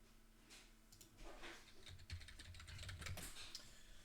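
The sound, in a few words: typing on a computer keyboard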